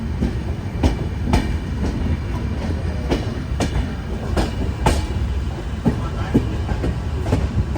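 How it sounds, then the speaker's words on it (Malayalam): A Konkan Railway train pulls into Thivim station in heavy rain, a steady loud rumble with rhythmic clickety-clack of wheels over rail joints and occasional sharp knocks, heard close from aboard the train. "ട്രെയിൻ അങ്ങനെ തിവിം റെയിൽവേ സ്റ്റേഷനിലേക്ക് ഇതാ എത്തിക്കൊണ്ടിരിക്കുകയാണ്"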